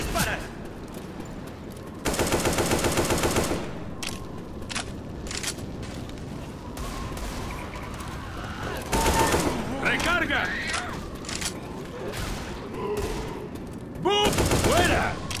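Automatic weapon fire in the zombie shooter Left 4 Dead 2, with several loud sustained bursts separated by quieter stretches of scattered shots and game noise, and shouted voices in between.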